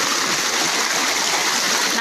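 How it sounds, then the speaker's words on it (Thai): A stream after fresh rain flows steadily in a continuous broadband rush, loud and close, with no break and no talking over it. "น้ำไหล"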